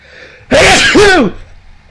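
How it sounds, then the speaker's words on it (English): A single loud, close human sneeze in two bursts, a sharp intake followed by the explosive release, lasting under a second and heard alone against quiet background. "I'm gonna try to remember to edit that sneeze out, because I'm sure that was loud"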